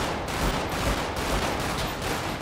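Video game gunfire in GTA 5 roleplay: dense, continuous bursts of rapid shots pile into a loud, unbroken barrage with punchy low thumps.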